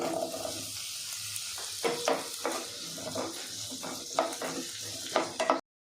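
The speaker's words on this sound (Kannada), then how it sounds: "ಬಾಣಲಿಗೆ ಸ್ವಲ್ಪ ಎಣ್ಣೆ ಹಾಕ್ಕೊತಾ ಇದ್ದೀನಿ. 2 ಈರುಳ್ಳಿ ಹಾಕ್ತಾ ಇದ್ದೀನಿ." Two onions fry in hot oil in a pan, a close steady sizzle broken by repeated louder scraping stirs every second or so.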